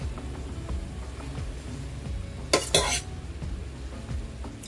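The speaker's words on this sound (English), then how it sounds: "we're going to mix or combine" A utensil stirs chicken, chickpeas, cilantro and parsley together in a skillet with the stove off, giving soft low rustling throughout and two sharp, close scraping clatters against the pan near the middle, with no talking.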